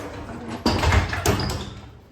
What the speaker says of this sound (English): Because you've got double bifold doors